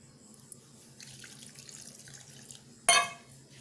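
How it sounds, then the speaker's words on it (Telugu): Water is poured into a yogurt and flour batter in a bowl: quiet, faint stirring sounds, then a sudden close splash of pouring near the end. "ఇప్పుడు కొన్ని నీళ్లు వేసుకొని కలుపుకుందాం"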